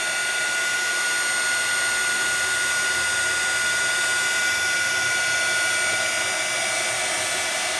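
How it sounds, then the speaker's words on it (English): A handheld heat tool blows hot air to melt embossing powder, a steady, even whoosh held close and alone for the whole stretch. "As the glitter is turning, I'm moving my heat tool."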